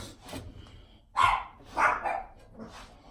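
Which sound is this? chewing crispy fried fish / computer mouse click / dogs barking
dogs barking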